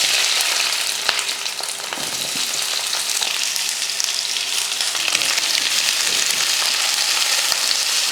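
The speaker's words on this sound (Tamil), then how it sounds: "வெங்காயத்தை ரொம்ப வதக்க வேணாம்," Onions and garlic fry steadily in hot oil, producing a dense, even sizzle with faint scattered crackles and utensil ticks. It runs close and continuous throughout, with no voices.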